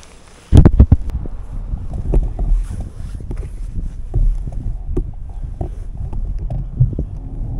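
Strong wind buffets the microphone in loud, rumbling gusts after a sharp bump at the Bayan-Ölgii border crossing in Mongolia, a continuous roaring low blast with no talking.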